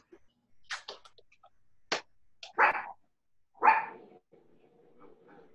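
A dog barks in a few short, sharp bursts at moderate distance, separated by pauses, with faint room sounds and a brief whimper-like noise in between.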